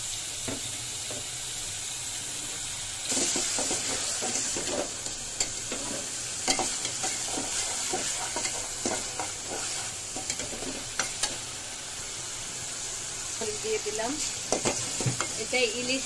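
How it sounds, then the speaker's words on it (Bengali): Oil frying in a pan while cooking hilsa fish curry, with garlic paste and spices being fried; steady sizzle with intermittent stirring clatter and scraping over about sixteen seconds, close and moderately loud, no talking. "না না তৈল দিয়ে দিলাম। এখানে ইলিশ মাছ রান্না হবে"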